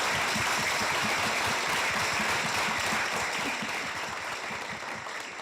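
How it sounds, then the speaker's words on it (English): An audience at an event gives dense, sustained applause, steady and fairly loud throughout, then thinning slightly toward the end. "If we can get a massive round of applause for Nancy and Moud"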